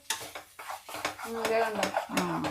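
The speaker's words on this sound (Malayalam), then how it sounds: "ഇളക്കാം അപ്പൊ തന്നെ. ഇളക്കിക്കോ." Egg thoran being stirred in a pan, a spoon scraping and clinking against the metal in short irregular strokes close by, while people talk over the cooking.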